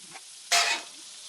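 Loaded hash browns frying on a flat-top griddle, a loud bright sizzle bursting up after a faint scrape, then easing off into a steady low crackle.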